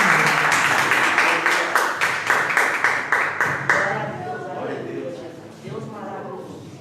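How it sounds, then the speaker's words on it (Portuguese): A church congregation claps in steady unison praise, sharp rhythmic claps filling the room for a few seconds before giving way to a speaking voice over a fading crowd. "E as palmas louvam ao Senhor."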